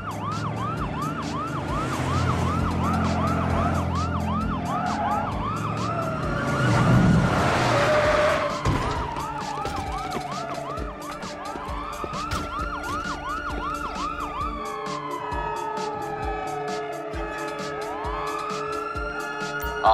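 Police sirens in GTA V Online during a bank contract job wail and yelp in overlapping, rising and falling cycles, with a surge of car noise and a tire skid partway through.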